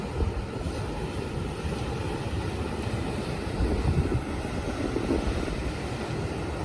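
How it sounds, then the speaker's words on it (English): River rapids and surf roar at Cape Vidal as a steady, dense rush of churning water, loud and continuous throughout and mixed with wind buffeting the microphone. "But these rapids here, wow."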